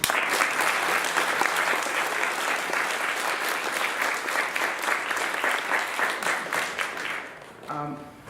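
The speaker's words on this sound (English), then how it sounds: "Can we get a round of applause for them?" An audience at an Eagle Scout Court of Honor gives the organizing mothers a loud, sustained round of applause, dense clapping that runs for about seven seconds before cutting off, with a brief voice after it.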